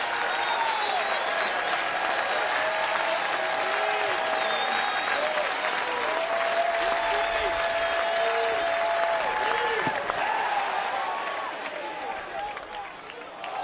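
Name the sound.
home crowd applauding at a college baseball game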